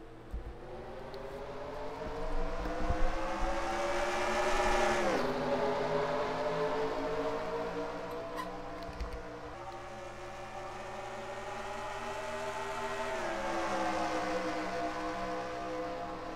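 Stock race cars in the Kroger 200 at IRP take the green flag off the final corner, a loud sustained multi-engine roar with rising and falling revs that swells as the pack accelerates past and fades slightly before building again.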